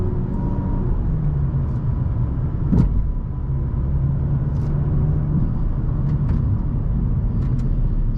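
A 2018 Mazda 3 Grand Touring drives along a road, giving a steady, close engine and road rumble with one brief louder thump partway through.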